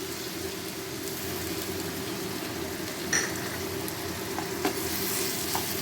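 Gobindobhog rice frying with masala and a broken-up hilsa fish head in a pan for a Durga Puja hilsa dish, a steady dense sizzle with a few soft stirring knocks, close and continuous with no talk.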